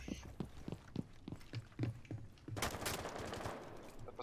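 Gunfire in Rainbow Six Siege: scattered single shots crack at a distance in a sparse rhythm, then a loud sustained burst of automatic fire erupts close by, while players talk faintly underneath.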